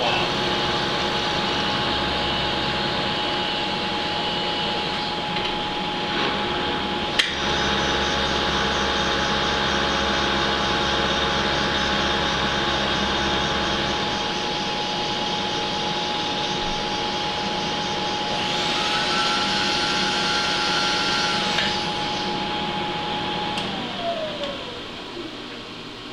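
A lathe turns a shifter saddle bushing, taking 32 thou off. It gives a steady, loud machine hum and whine with a faint high cutting tone, a sharp click near the middle, and the tone winding down at the end.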